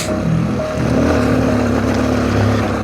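A motorcycle engine runs steadily in second gear on a mountain road ride, sounding like a loud, continuous low drone close by with wind rush over it and no talking.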